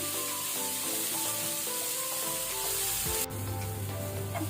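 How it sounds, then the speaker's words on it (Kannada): Onions frying in a pan over a medium flame for a paneer, peas and cauliflower curry; a steady, close, loud sizzle with no talking, briefly disturbed midway by a stir. "ಈಗ ನಾವು ಈರುಳ್ಳಿಯನ್ನು ಒಳ್ಳೆ ರೀತಿ ಕಲರ್ ಚೇಂಜ್ ಆಗೋ ತನಕ ಮೀಡಿಯಂ ಫ್ಲೇಮಲ್ಲಿ ಫ್ರೈ ಮಾಡ್ಕೊಳ್ಳುವ"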